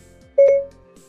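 A car's hands-free phone system gives a single clear electronic beep tone, brief and steady, standing out over a low background hum.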